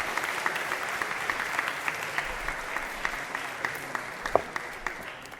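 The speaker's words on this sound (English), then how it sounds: "Give them a round of applause once again." Steady applause from a crowd at a national birthday celebration, many hands clapping at once in a dense, even wash of sound with no voices over it.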